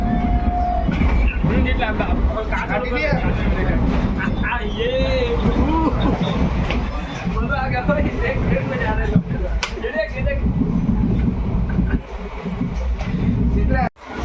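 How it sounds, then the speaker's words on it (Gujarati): Loud, continuous rumble and rattle of a fast-moving train from onboard after leaving Bhavnagar Terminus, with people talking over the steady roar throughout. "અત્યારે ફૂલ ફાસ્ટ ટ્રેનમાં જઈ રહ્યા છે અમે"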